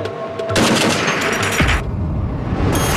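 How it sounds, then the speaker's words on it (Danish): Warning shots from the Danish navy ship Absalon, fired at pirates, come as a loud, sustained burst of rapid gunfire that rattles continuously for a few seconds. "Så snart Absalon er tæt nok på piraterne, affyrer skytterne varselsskud for at få dem til at opgive kampen."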